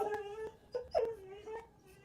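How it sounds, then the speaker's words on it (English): A dog whimpers and whines nearby in a string of thin, wavering high-pitched cries with short catches, faint and alone with no talking. "apologize for my insane dog."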